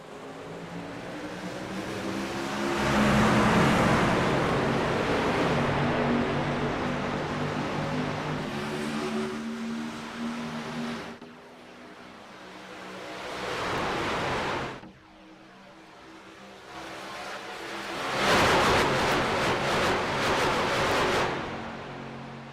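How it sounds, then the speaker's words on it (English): Racing truck engines roar around Daytona International Speedway in a racing video game, a loud, dense, continuous rush that swells, dips briefly in the middle and surges back strongly near the end. "Absolutely love the way these trucks sound."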